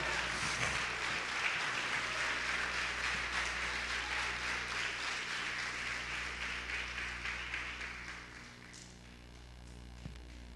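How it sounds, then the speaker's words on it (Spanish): Congregation applauding during a Spanish-language church service, a dense, steady wash of clapping over a low electrical hum that thins and fades out near the end. "dale un aplauso al Señor en esta mañana"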